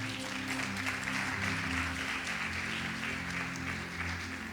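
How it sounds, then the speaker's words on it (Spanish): A church congregation applauds together in a sustained, even wash of clapping that fills the room for several seconds without a break. "Dale un aplauso a mi Jesús."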